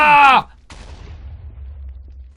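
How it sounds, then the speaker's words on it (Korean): An admin rocket launcher fires in Minecraft: a brief tonal, voice-like cry is followed by a sharp, close blast that decays into a low, lingering rumble. "어드민 로켓 런처 발사!"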